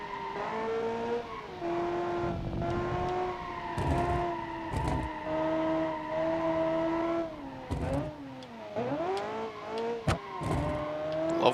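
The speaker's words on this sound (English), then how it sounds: "I have a very familiar engine sound for all of these." A flat-plane V8 engine in the Automation car-building game revs and holds steady tones, its pitch rising and dipping with throttle changes and a few sharp blips, loud and continuous with no talk.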